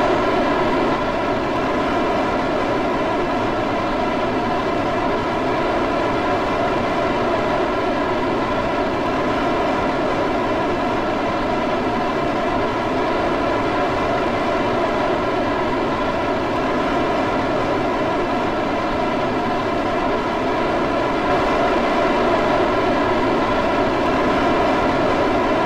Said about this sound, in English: Wow, those engines are really loud.